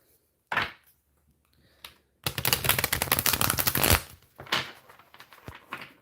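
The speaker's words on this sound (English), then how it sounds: "I'm going to shuffle this deck 7 times to completely randomize it." Tarot card deck being shuffled, a couple of brief handling rustles and then a long riffling burst of cards flicking together, close and alone without talk.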